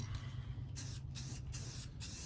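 Short bursts of an aerosol spray can coating model pine trees with brown and green flocking material, four or five steady hissing passes in a quick rhythm, close and fairly quiet.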